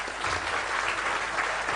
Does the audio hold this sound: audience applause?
yes